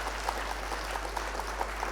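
An audience at a Hindi kavi sammelan poetry recital gives moderate, steady applause with small rhythmic peaks over a low electrical hum.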